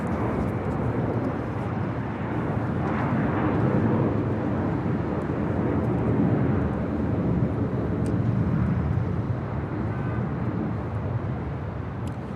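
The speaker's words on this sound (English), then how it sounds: "That is American Airlines Flight 990 departing to Atlanta on an A321" An American Airlines Airbus A321 jet departing Los Angeles International Airport, a broad continuous engine roar that swells slightly and holds steady at a moderate distance, with no voices.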